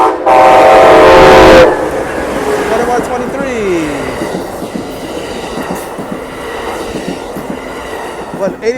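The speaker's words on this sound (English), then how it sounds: "There go that train, folks. That train is going to San Jose." An Amtrak Capitol Corridor train led by a Siemens SC44 Charger locomotive passes the Fruitvale Avenue crossing in Oakland, opening with a loud horn blast that gives way to a steady rumble and clatter of passing cars, close and heavy.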